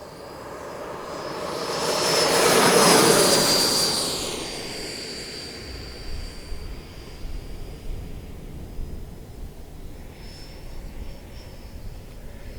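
An FMS Super Scorpion V2 90mm EDF model jet makes a rushing, whining pass that swells to a loud peak and then fades into steady wind-like hiss as it flies away on a breezy day.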